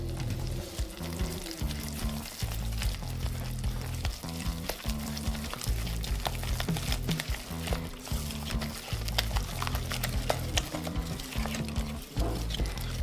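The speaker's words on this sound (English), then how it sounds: "Just give it a vigorous whisk." Okonomiyaki batter is whisked vigorously in a bowl, producing fast, even, rhythmic beating strokes that continue steadily and close-up without pause, with no voices.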